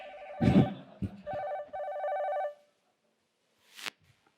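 A telephone bell rings in two bursts, close and clear, followed by a brief silence and a short rustle.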